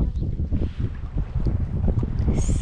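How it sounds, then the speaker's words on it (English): Gusty wind buffets the microphone at a stream mouth on a lake shore during fly fishing, a steady low rumble that swells and eases throughout, with faint lapping water beneath. "So we've got here, and it's a little bit windy,"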